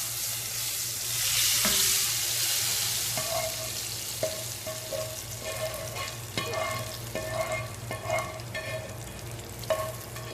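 Hot tempering, a baghar, sizzles into split lentils in a pan, a bright hiss that swells and then fades under steady frying crackle with a few clinks of stirring.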